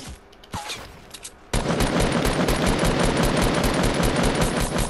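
Video game gunfire: after a second or so of quiet clicks and thumps, a sudden loud burst of rapid automatic fire rattles on continuously to the end.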